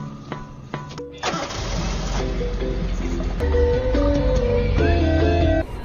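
A father's car engine cranks and catches after a brief click, then settles into a loud, close idle that swells slightly, heard alone without talk.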